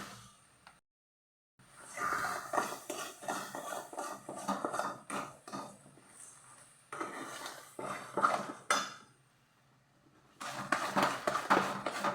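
Sugar being stirred into milk in a pot, giving close, irregular clinks and scrapes of a spoon against metal in short bursts with brief pauses, no talking.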